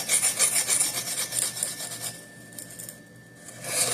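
A Boker Magnum Stealth tactical knife blade is drawn repeatedly across a 220-grit sharpening stone, producing close rhythmic rasping strokes that are loud at first, fade to quieter scraping midway, then return; no speech.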